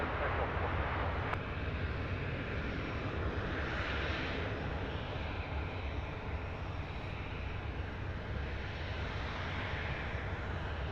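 Aircraft taking off at Sydney Airport, a steady distant engine roar sustained throughout with no talk.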